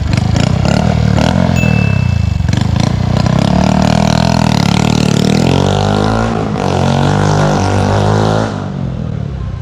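A modified Honda Wave 110i motorcycle engine revs loudly up close, with the pitch climbing and falling through repeated throttle blips and a long sustained rev, plus some metallic clatter.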